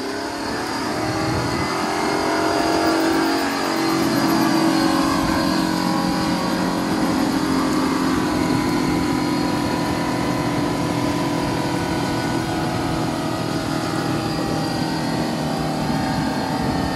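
A Cadillac CTS engine held in second gear, revving hard and sustained, a loud continuous roar with rising harmonic tones, close and dominant with no talk.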